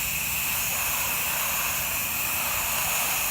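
Water spray rinsing a house wall after a soft-wash cleaning, top down at low pressure, a steady broad hiss of spraying water running continuously and loud throughout.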